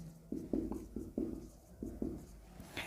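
Handwriting during a biology lesson, as the words "abscisic acid" are written out: a series of short, scratchy strokes in an uneven rhythm, close and fairly quiet, with no talking.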